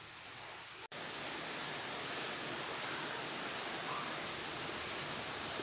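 Río Cómo Hacemos in Cristóbal Colón, shallow and running over many exposed stones, gives a steady, dense rushing of water, close and constant, with one split-second dropout near the start.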